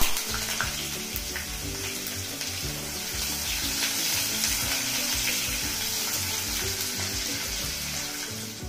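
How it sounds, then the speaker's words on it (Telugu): Onions, green chili and curry leaves fry in a pan with a loud, steady, close sizzle and crackle that lasts throughout, with no voices. "ఇవన్నీ వేసి దోరగా వేగనిద్దాం"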